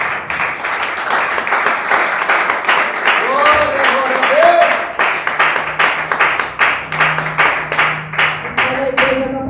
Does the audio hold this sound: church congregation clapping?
yes